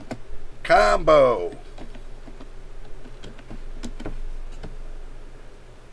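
Keys tap out a search on a computer keyboard in a quick run of scattered clicks after a brief spoken word, close and moderately quiet.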